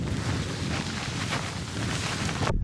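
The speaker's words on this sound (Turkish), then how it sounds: "Rüzgar çarpıyor" Steady wind roars against the microphone in a dense, continuous rush that cuts off abruptly at the end, during a climb toward the summit of Uludağ mountain.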